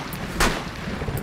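A single sharp gunshot cracks out in a Rainbow Six Siege match, one loud close burst standing over a low background rumble.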